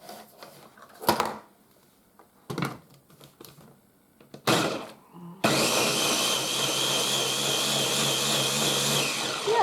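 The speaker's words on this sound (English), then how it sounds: "See how quiet this little ninja blender is?" A few clicks and short knocks, then a small Ninja kitchen blender starts up and whirs steadily at a loud, even pitch until the end.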